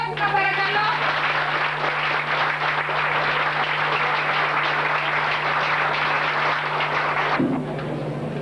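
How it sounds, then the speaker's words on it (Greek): An audience at a formal gathering applauds with dense, sustained clapping that fills the room for about seven seconds and then cuts off abruptly. "Ένα χειροκρότημα παρακαλώ!"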